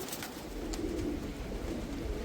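Punjabi high-flyer pigeons coo softly in low, rolling murmurs against a steady background hiss.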